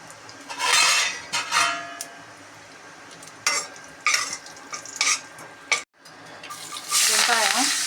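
Mustard seeds, cumin, urad dal and turmeric hit hot oil in a pan, sizzling in loud bursts between clinks of a spoon against the pot, followed by a brief pause and a stronger, sustained sizzle.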